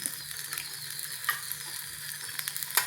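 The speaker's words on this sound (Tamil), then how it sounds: "கத்திரிக்காய் நமக்கு வேகணும்ல, அதனால் சிம்மில் கொஞ்சம் நேரம் ஒரு 5 நிமிஷம் போட்டுருங்க" Brinjal (eggplant) cooking gently in oil over a low flame, a faint steady hiss and sizzle with a few light crackles and small clicks, heard close.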